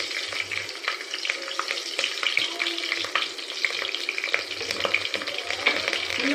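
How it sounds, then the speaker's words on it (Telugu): Green chillies sizzle in hot oil for mutton biryani, a loud, close, continuous crackling hiss with bursts of spitting and stirring throughout, no voices. "ఆయిల్ వేడెక్కిందండి. ముందుగా పచ్చిమిర్చి వేసుకుందాం."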